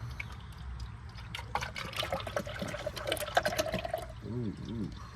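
Motor oil pours through a funnel into a Honda Civic engine with a trickling, gurgling liquid sound that grows fuller as it fills, with a little talk and a few bubbling glugs at the end.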